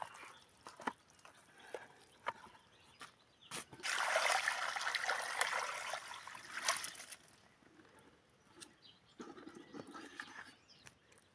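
Water trickles and splashes through a sieve, straining a sand and clay mix, for a few seconds, fades, then runs again more briefly, amid quiet handling noises and no speech.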